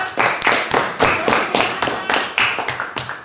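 Classroom group claps hands in a quick, loud, rhythmic pattern, several sharp clustered bursts close to the microphone, with little else audible.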